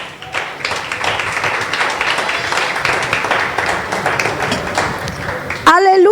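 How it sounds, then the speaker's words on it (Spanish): A church congregation claps loudly during a sermon, a busy sustained patter of many hands lasting several seconds, ending as a voice cuts in at the close. "¿Cuántos pueden darle un fuerte aplauso al Señor?"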